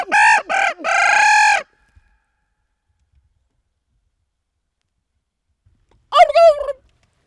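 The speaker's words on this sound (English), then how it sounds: "I usually get birds gobbling pretty good" Wild turkeys gobble loudly and close in a rapid burst of three rattling calls, then go quiet for several seconds before one more short gobble.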